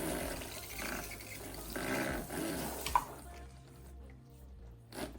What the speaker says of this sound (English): the first step is to wet the beard with your tap water